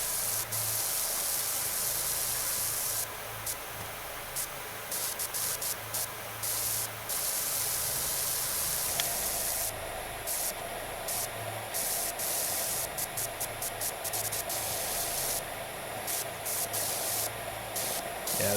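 Pressure washer nozzle spraying in PowerWash Simulator 2 at a campsite, a steady loud broadband hiss that runs throughout, with brief dips and changes in texture as the spray is switched on and off.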